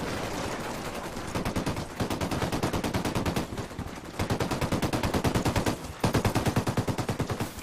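Sustained automatic gunfire in Ghost Recon Wildlands, loud rapid bursts of rifle shots in a steady rhythm with brief pauses between strings, close and dominant throughout.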